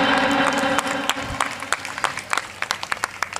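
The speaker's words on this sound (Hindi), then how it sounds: "सामने जोरदार तालियां" An audience at an award ceremony honoring guests with mementos claps, a dense burst of applause that thins out into scattered, individual claps fading toward the end.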